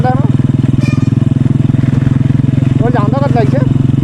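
Honda SP 125 motorcycle fitted with an SC Project exhaust, idling with a loud, rapid, steady thumping burble, close up, while people talk over it.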